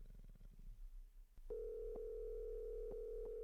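A telephone dial tone comes on partway through while calling someone: a steady, clear hum holding unbroken for about two seconds, with faint clicks through it, after quiet room noise.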